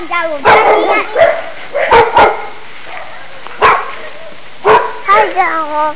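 A dog barks in loud, close yips and woofs, several short bursts spread across a few seconds, mixed with voices talking nearby outdoors.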